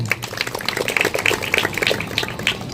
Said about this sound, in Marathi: ज्या सरांनी इथे आयोजित केलं त्या सरांसाठी एकदा जोरदार टाळ्या